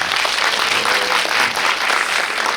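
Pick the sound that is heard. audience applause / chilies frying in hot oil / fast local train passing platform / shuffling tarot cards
audience applause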